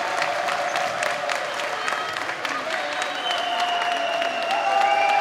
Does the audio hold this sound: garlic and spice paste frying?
no